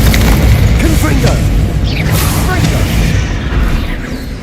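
Confringo fire spell blasting in the Hogwarts Legacy video game, a loud booming burst over dense, continuous combat noise with crackling debris and swishes, staying forceful throughout.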